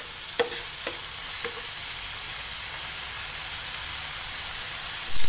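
Meat seasoned with black pepper stir-fried until nearly dry, a steady high sizzle and hiss with a few clicking stirs of the spatula early on, heard alone.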